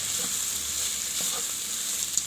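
Shrimp and bitter gourd fry sizzles steadily in a rice cooker as it is stirred, a continuous hissing crackle with faint scraping touches and no talk.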